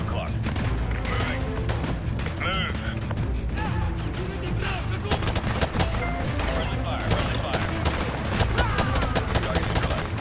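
Rapid gunfire in the Modern Warfare 2 Campaign Remastered game, dense bursts of automatic and single shots crackling nonstop over battle noise, with voices talking underneath.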